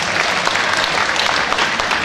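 Zoo audience clapping at the end of a crocodile show at Australia Zoo, a steady, dense wash of applause from a sizeable crowd filling the whole moment without a break.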